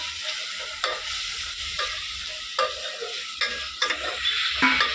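Food sizzles and is stirred in a pan on a stove, with a steady frying hiss broken by repeated scraping strokes of a large spoon, close up and without talk.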